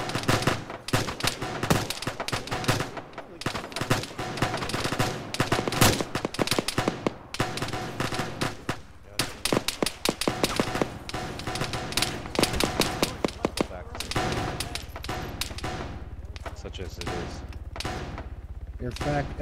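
Dense military-sim firefight in Arma with the ShackTac group: rapid overlapping rifle and machine-gun bursts and sharp single shots crackle almost continuously, some close and loud, with players talking over the shooting.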